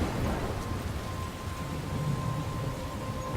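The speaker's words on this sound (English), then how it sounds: "I'm trapped in a storm?" Steady rain with low rolling thunder in a storm scene from the video game Life Is Strange, a continuous dense wash of downpour with deep rumbles underneath and no voices.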